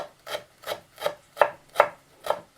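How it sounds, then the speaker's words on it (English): A knife chops ginger on a board into a fine dice in a steady rhythm, six crisp strokes evenly spaced, close and clear with nothing else. "So I'm just chopping this up to a very fine dice."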